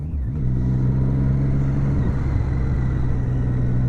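A motorcycle engine pulling away for a night ride, a loud steady mid-pitched rumble that rises briefly in pitch as it gets going, then holds a constant drone close by.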